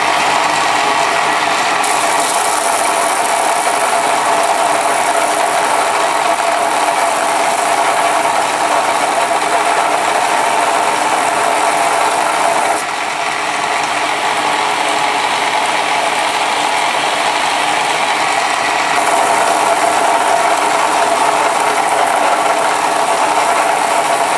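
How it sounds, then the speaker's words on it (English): A worn 120-grit belt sander grinds a steel blank, giving a loud, steady abrasive roar that runs unbroken for the whole stretch, with only slight shifts in tone as the pressure changes. No voices. "So that is a worn 120 belt sander, a 120 belt"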